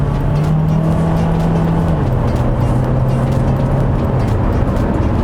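A Hyundai Kona gasoline car accelerates in manual shift mode, engine drone rising steadily then dropping in pitch at a gear change before climbing again, heard loud and continuous from inside the cabin.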